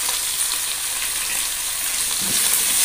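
Seasonings with sugar, powdered stock and pepper frying in a pan, a steady close hiss of sizzling with faint stirring movements, growing slightly louder toward the end, without any speech.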